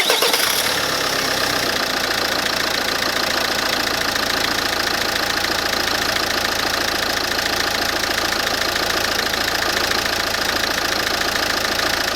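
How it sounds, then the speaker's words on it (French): A Peugeot Expert 2.0 HDI diesel van is started after a turbo replacement, catching at once and settling into a loud, steady idle with a dense, continuous engine clatter throughout. "Allez, on va le démarrer."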